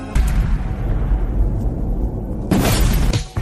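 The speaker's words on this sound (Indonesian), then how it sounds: "ledakan besar menghancurkan tempat Joe berada." Large explosion in an action film, a deep rumbling blast followed by a sharp, loud burst of debris and crashing noise near the end.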